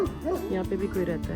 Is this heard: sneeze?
no